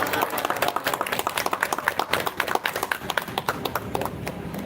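An audience at an English speech contest bursts into dense, steady applause after a speech, many hands clapping together at close range without pause for several seconds.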